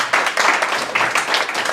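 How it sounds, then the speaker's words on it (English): Audience applause at the close of a UX meetup talk on presentation anxiety: a short, dense burst of many hands clapping, fairly loud and steady for under two seconds. "I think a round of applause."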